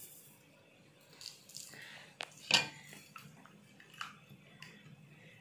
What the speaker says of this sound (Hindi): अब इसको अच्छे तरीके से मिक्स करना है